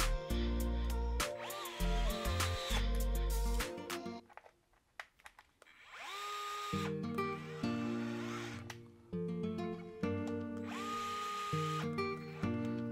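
A power driver whirs in short, loud bursts as it runs screws into an Arrma 1/10 RC truck, with brief quiet pauses between the spins.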